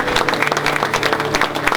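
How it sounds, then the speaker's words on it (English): Audience applause for guest performers at a live improv theater show on public policy, a brief burst of dense clapping that stays loud and steady throughout with no speech over it. "please, big round of applause for our guests."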